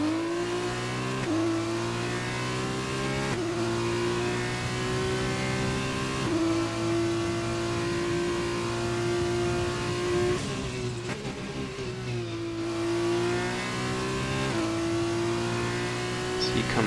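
A race car lapping a circuit in a racing video game: steady engine drone with repeated upshifts and pitch climbs, continuous and fairly loud, with a commentator talking over it.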